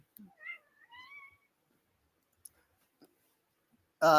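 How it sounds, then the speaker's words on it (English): A house cat meows off in another spot of the room, a couple of high, drawn-out yowls close together, then near silence with faint clicks before a voice starts speaking loudly at the end. "Can you hear my sister's cat going wild off screen?"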